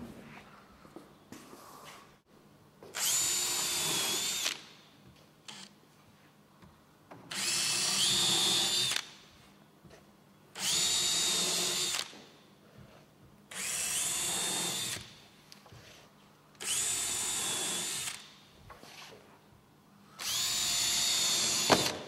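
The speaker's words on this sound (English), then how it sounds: "So we're going to use a countersink and put screws throughout the whole riser." A power drill drives screws through countersunk holes into a wooden riser platform, whining in six steady bursts of a second or two each, separated by quiet pauses, close and loud.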